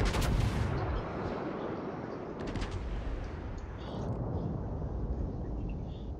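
Naval guns firing high-explosive shells in World of Warships, a loud booming salvo at the start followed by a rolling, rumbling tail and a second blast partway through.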